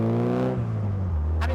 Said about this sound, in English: The exhaust sounds nice, it's not too much.